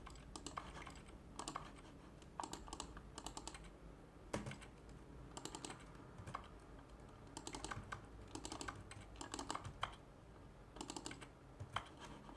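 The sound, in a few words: typing on a computer keyboard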